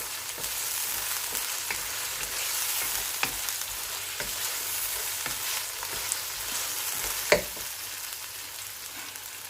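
Tomatoes are stirred in a pan for a Ramadan shalgam (turnip) chicken gravy, with a steady sizzle of frying beneath occasional scraping clicks from the spoon and one sharper knock near the end, with no talking.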